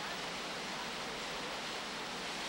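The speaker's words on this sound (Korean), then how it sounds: "이제 남은 것은 7m 폭포." A 7 m waterfall on a New Zealand kayak run, a steady broadband roar of falling white water, even and unbroken, heard alone with no voices.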